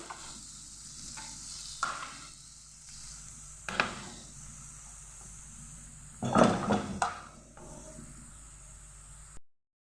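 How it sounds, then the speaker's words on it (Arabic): Onion and garlic frying in a home pan, a steady low sizzle running throughout with a few sharp clinks of a utensil stirring against the pan, louder scraping bursts midway, no talking. "في المقله تاعك ديري البصله والثوم، نقليهم مع بعض"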